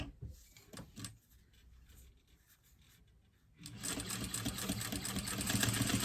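A sewing machine bastes a 1/8 inch seam on a tote bag, starting after a few quiet seconds of small handling clicks and then running as a continuous whirring buzz that grows slightly louder toward the end.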